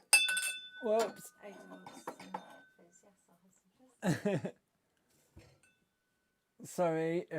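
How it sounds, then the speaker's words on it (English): Glasses clink and knock together while drinks are poured at a birthday gathering. The bright chinks and rattles come up close among bits of speech, with quieter gaps between them. "Sorry if that was really loud glass banging."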